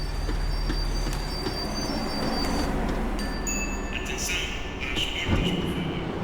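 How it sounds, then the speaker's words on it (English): Tram in the video game Max Payne 3 slowing on its rails, a steady rumbling roll with high metallic wheel squeals rising and falling over the last few seconds, loud and close, no talk. "The tram was slowing down, and I'd only just gotten on board."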